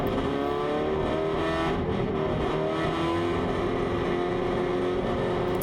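Several retro race cars, including a 2000-class Alfa Romeo, rev loudly together on the grid in the rain before the start of an ISSOM Retro Race round, a dense, continuous roar of engines close by.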